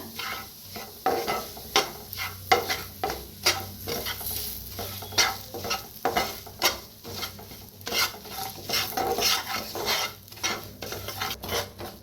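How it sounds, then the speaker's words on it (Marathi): Gram flour roasting in oil for kachori filling, stirred hard in a metal pan, with rhythmic scraping and clinking strokes over a steady low sizzle. "बेसन पीठ घेतलेलं आहे तेला तर भाजून घ्यायचा"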